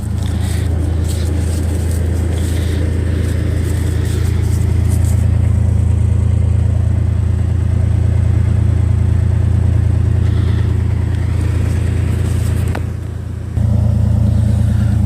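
A Toyota 4Runner engine fitted with a Thrush muffler idles loudly and close, a deep steady exhaust rumble with a brief dip near the end before settling back to a constant drone.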